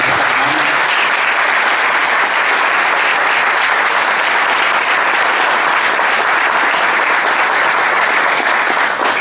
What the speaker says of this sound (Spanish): Yo pido un fuerte, fuerte aplauso a estas hermanas.